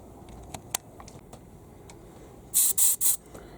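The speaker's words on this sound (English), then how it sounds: "So always shake your paints before you spray guys." Three quick hissing bursts of an airbrush spraying metallic colour-shift paint near the end, each short and close, after a stretch of quiet with scattered faint ticks.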